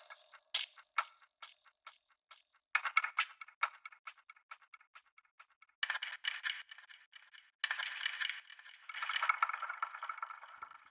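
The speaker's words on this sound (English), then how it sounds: "Those are just random foley samples from a boombox sample pack." Lo-fi percussion made from randomly chopped foley samples taken from a boombox sample pack: quiet, dry clicks, rattles and scrapes in a loose rhythmic pattern, with denser rattling bursts toward the end.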